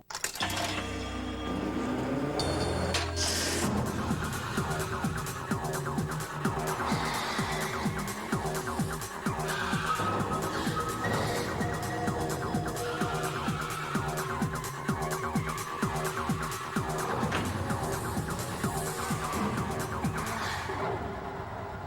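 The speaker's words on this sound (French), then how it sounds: "Voici la toute nouvelle Accent de Hyundai. Une voiture difficile à battre." A new Hyundai Accent car in a mid-1990s television commercial, tires squealing and skidding over engine noise and a driving music bed, with a sharp clatter near the start and sound continuing loud for about twenty seconds.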